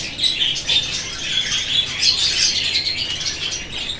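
Budgerigars in an aviary chirp busily while eating seed, a dense overlapping chatter of bright, high twitters and squawks close by, with no talking.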